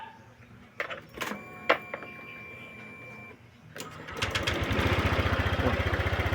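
A Honda Click scooter with an intermittent blackout and starting fault cranks with a few clicks and whirs, then its engine catches at about four seconds and settles into a close, steady, even idle.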